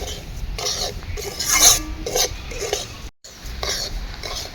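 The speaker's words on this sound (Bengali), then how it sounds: "সুজি লাল লাল করে ভেজে নেব।" Semolina for suji upma being stirred and dry-roasted in a pan, a close, continuous scraping and rasping of a spoon against the metal with light sizzling underneath.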